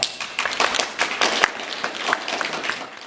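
Spectators at a goalball game break into clapping and cheering after a goal is scored, a burst of close, busy applause that holds steady and then fades out.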